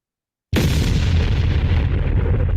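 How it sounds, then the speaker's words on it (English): A bomb explosion sound effect bursts in abruptly after a short silence, loud and close, then rolls on as a dense, sustained rumble with no voices. "Where's my bomb?"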